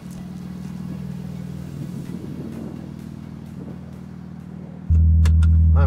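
A Porsche GT2 RS engine with its exhaust valve open idles in a low, steady rumble, then swells abruptly into a louder, deeper drone near the end.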